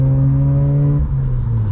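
A Mazda RX-8 rotary engine burbles steadily through its exhaust while driving at night, a low droning tone heard up close with a slight dip near the end.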